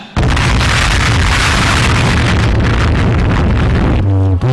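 Loud, dense explosion roar filling the whole stretch, a sustained rumbling blast with crackling bursts, cutting off abruptly near the end into a brief tonal hum.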